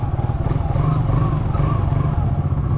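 A motorcycle engine rumbles loudly and steadily at close range while it is ridden, its low throbbing pulse holding even throughout.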